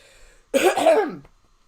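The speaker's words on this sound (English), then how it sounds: "I don't want to cough no more." One short, rough throat-clearing cough sounds close and fairly loud, with a gravelly voiced quality, alone in near silence.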